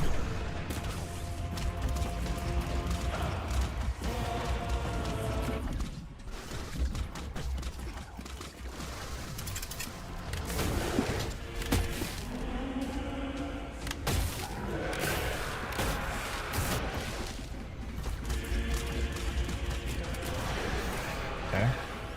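In the video game Luna Abyss, a shotgun and rocket launcher fire in repeated loud blasts and bursts amid layered game effects and mechanical clatter, with a voice talking over the action throughout.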